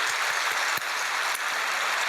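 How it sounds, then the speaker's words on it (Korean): A church congregation at a Thanksgiving service claps together in thanks, producing a thick, even roar of applause with no voices over it. "우리 모두 함께 감사의 박수를 드리겠습니다."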